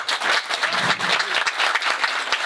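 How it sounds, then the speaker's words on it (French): An audience at an outdoor political gathering applauds a president, steady dense clapping with no voices, held at an even level for the whole stretch. "Vous pouvez applaudir."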